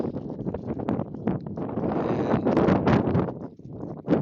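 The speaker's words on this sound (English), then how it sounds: "But a windy day here in Vinosh." Wind blowing across an outdoor cricket ground, gusty rumbling buffets battering the microphone with fluctuating intensity throughout, no voices.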